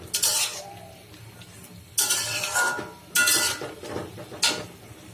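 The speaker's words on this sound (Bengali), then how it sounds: "আলু দিয়ে শাকটা ভাজি করি।" Greens and potatoes are stir-fried in a pan, with a spatula scraping and clinking against the metal in four distinct bursts separated by quieter pauses, close and fairly loud, with no talking.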